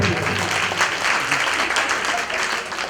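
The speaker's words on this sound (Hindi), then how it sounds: "ताली बजाओ" Audience clapping at a Shrimad Bhagwat Katha religious discourse, a steady dense wash of applause filling the whole stretch at even loudness, with some voices mixed in.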